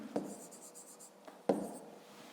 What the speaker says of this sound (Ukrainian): Тобто записуємо 4 нолика.